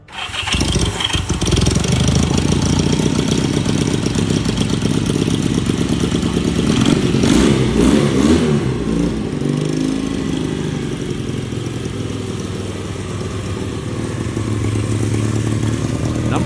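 A classic motorcycle engine starts and then runs loud and close, holding a rough, steady idle with a brief swell of revs midway before settling back.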